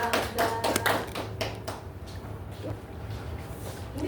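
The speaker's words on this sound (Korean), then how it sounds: "박수!" An audience at a church service applauds, a burst of loud clapping that quickly thins out and fades to scattered taps and room murmur.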